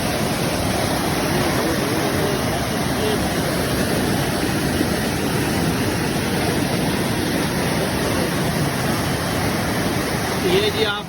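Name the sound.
fast-flowing river floodwater seen from bridge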